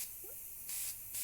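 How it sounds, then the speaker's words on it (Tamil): Aerosol spray paint hisses onto the face of a goddess statue in two short, quiet bursts separated by a brief pause, with no talking. "ஃபேஸில் ஸ்ப்ரே பண்ணும்போது ரொம்ப கவனமாக ஸ்ப்ரே பண்ணணும்."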